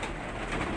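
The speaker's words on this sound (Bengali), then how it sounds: "এখানে রয়েছে গিরিবাজ কবুতরগুলো" Giribaz pigeons coo softly in a pigeon loft, a faint, low murmur of calls over a brief stretch.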